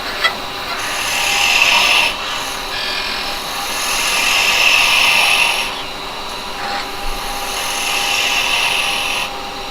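Wood spins against a skew chisel on a lathe, a steady scraping hiss that swells and fades in several long passes.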